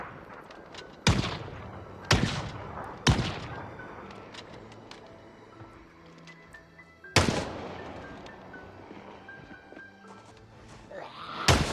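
Several sharp gunshots in Project Zomboid long-distance shooting, three fired about a second apart, then a pause and a fourth loud report, each with a ringing tail against a quiet outdoor ambience.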